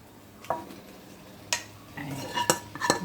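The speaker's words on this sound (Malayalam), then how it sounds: "അതും ഇട്ടു നന്നായിട്ടൊന്ന് ഇളക്കി യോജിപ്പിച്ചിട്ട് നമുക്ക് ഈ മുട്ട റോസ്റ്റ് ചെയ്തത് ഇട്ട് കൊടുക്കും" A spoon scrapes and clinks against a pan while stirring egg roast, sharp metallic taps at irregular intervals over soft sizzling, close by.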